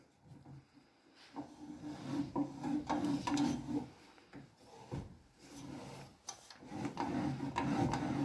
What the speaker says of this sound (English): it just digs the blade pretty much further into the pipe and cuts it as you're going round